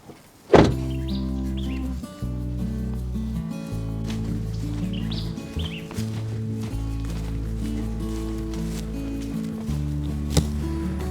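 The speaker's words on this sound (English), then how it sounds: "Let me shut down the pickup door." A pickup truck door is shut with one sharp slam near the start, followed by a steady low tonal drone that shifts in pitch now and then, with no talk.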